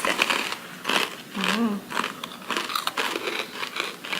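Crisp, repeated crunching of a small dried shiitake mushroom snack being bitten and chewed up close, in uneven bursts across several seconds.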